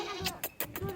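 A young goat bleats a few times in quick, short cries, fairly faint against a quiet background.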